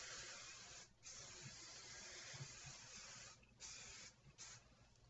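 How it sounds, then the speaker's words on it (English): Beyond the Zone Frozen Stiff hairspray hisses out of an aerosol can in several long sprays, broken by short pauses, close and steady. "my hairspray, Beyond the Zone Frozen Stiff, as I've said before. And I just kind of spray it down."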